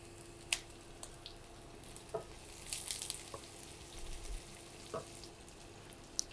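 Chopped onion frying in a pan with garlic and ginger, a quiet, low sizzle punctuated by a few sharp clicks and scrapes of stirring, close by with no voices.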